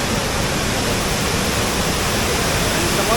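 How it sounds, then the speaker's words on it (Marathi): Savatkada waterfall in Konkan, running full after rain, roars as a steady, loud, broadband wash of falling water with no pauses. "आपला सवतपुरा धबधबा"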